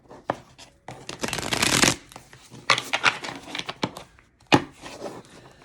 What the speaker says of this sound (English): I just want to shuffle my cards right.